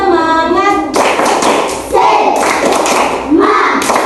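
Elementary school class in Indonesia doing the rhythmic 'tepuk semangat' clapping chant, loud patterned claps in bursts alternating with children's and a teacher's voices.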